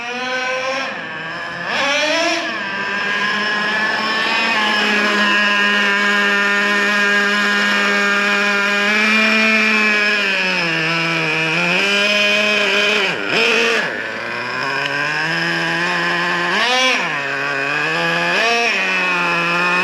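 A Traxxas Revo 3.3 nitro RC truck engine runs during break-in, giving a loud, high-pitched buzzing whine that rises and falls with throttle changes and has several sharp revving dips and surges, close by and with no talking.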